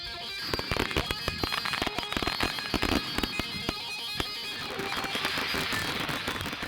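Fireworks set off at a large private party crackle and bang continuously, dense overlapping bursts and popping reports filling the air without pause, loud and fairly close, with no talking.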